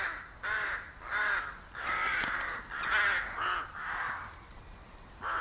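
Several crows caw in a series of loud, harsh calls close by, the caws coming in irregular bursts with short gaps between them and no voices.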